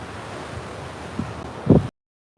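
Ocean surf rolling onto Coney Island beach at sunset, a steady wash of waves with wind buffeting the microphone and a couple of louder breaking swells near the end before the sound cuts out.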